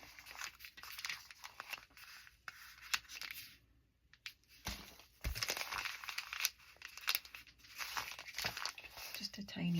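Scissors snip and trim the folded edge of a foam-dotted Amazon envelope, making crisp, irregular cutting and crinkling sounds up close. A low voice is heard in places.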